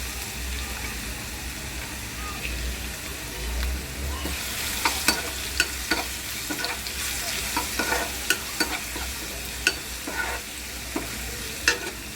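Onion and garlic roasting in a pan for veg pulao, a steady close sizzle broken by sharp clicks and scrapes of a spatula stirring at irregular intervals.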